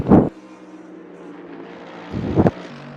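In the racing game Assetto Corsa Competizione, race cars on the Hungaroring track pass by twice, each a short, loud whoosh with a steady engine drone between the passes.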